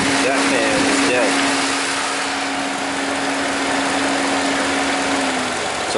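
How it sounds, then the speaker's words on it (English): Dual cooling fans on a 2016 Nissan Rogue running in high mode, heard as a loud, steady whirring drone beside the idling engine, with one fan dead; a brief voice is heard near the start. "So dual fan, high mode. Turn up. This fan kicks on, that fan is dead."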